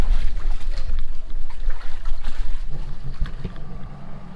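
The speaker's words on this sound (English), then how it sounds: "looks like they've sent a boat out to come and pick us up" A motorboat engine rumbles steadily as it approaches in the Derawan Islands, amid wind buffeting and splashing water, the low drone continuing throughout.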